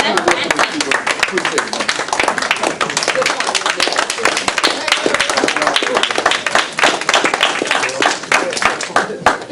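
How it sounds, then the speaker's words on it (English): A school board meeting room breaks into clapping for a departing board member, a smaller group with distinct, uneven hand claps at close range, and a brief spoken thanks partway through. "we need to give him an applause"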